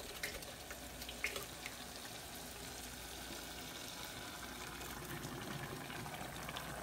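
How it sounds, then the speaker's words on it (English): Water is poured into a blender to rinse out leftover garlic and tomato paste, giving a steady, faint rushing and splashing that lasts throughout. "pour the rest of our water into the blender to try to clean out and get all of the rest of the garlic and tomato paste out of the blender"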